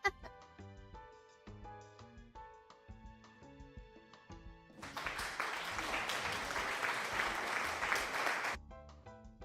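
Dense applause from a crowd swells in for about four seconds over a backdrop of light keyboard music, then cuts off abruptly.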